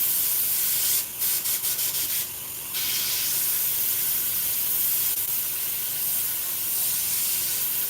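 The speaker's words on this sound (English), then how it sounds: "My airbrush is acting crazy again." Sputtering airbrush sprays in a steady loud hiss, briefly breaking into choppy pulses and a short dropout before the hiss resumes.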